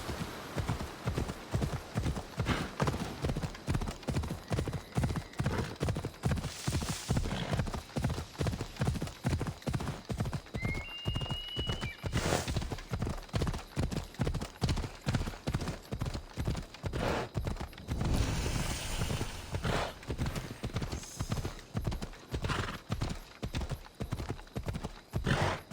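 A horse galloping in the Assassin's Creed Odyssey video game: a loud, steady, rapid clip-clop of hooves running throughout, with a brief whinny and faint background tones mixed in.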